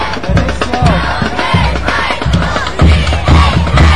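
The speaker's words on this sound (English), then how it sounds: "Sounds like a pretty familiar cheer, John." A football crowd at a game chants a rhythmic cheer, loud repeated bursts of massed voices in a steady beat, close and continuous with no separate talk.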